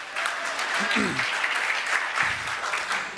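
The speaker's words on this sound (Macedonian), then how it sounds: "Да го поздравиме со еден аплауз Мартин." An audience at a gathering breaks into dense, sustained clapping that stays loud and even throughout, with a voice briefly heard over it.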